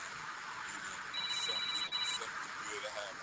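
A phone goes off nearby with a short electronic ring of steady repeated beeping tones lasting about a second, over a constant background of room noise and broadcast-style sound.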